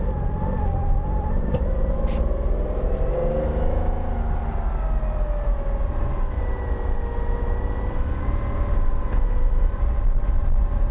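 A Porsche 914-6 out on a drive, its flat-six engine giving a steady, loud drone inside the cabin, with the pitch rising and falling through gear changes and a few faint clicks over the top.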